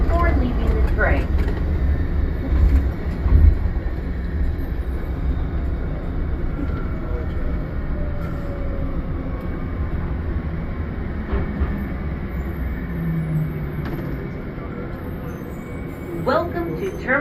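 An automated airport terminal train at Denver airport rumbles steadily at close range for a long stretch while a recorded announcement voice speaks over the ride.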